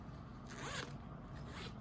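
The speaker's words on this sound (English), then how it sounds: "recessed zipper down here" A recessed zipper on a fully lined rose floral bag with webbed handles is pulled in two quick, soft zips, close by and quiet.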